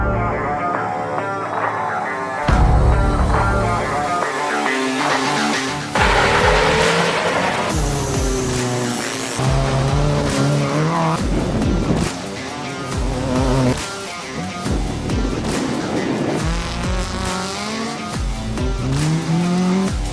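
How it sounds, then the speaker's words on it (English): Pickup trucks race and skid around a dirt rallycross track, engines revving and whining loudly with shifting pitch, tires scrabbling, as vehicles pass close for a continuous stretch. "Here are the highlights, including the intriguing melee for dominance in the pickup segment"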